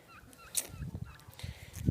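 Geese honking and gabbling nearby in short, uneven calls, with a few scattered louder honks toward the end.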